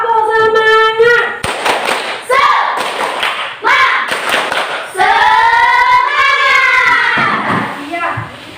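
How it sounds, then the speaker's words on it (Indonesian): Schoolchildren in a sixth-grade classroom perform a rhythmic spirit clap, loud sharp thumps and claps in patterned bursts that alternate with children's chanting voices throughout. "Coba kita tepuk semangat dulu."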